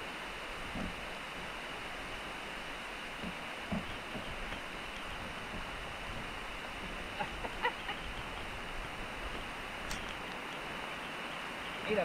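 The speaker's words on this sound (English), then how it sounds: "It's the sound of rain." Steady, dense rain hiss at an off-grid cabin with rainwater collection tanks fills the whole stretch, even and unbroken, with a few faint knocks and splashes over it.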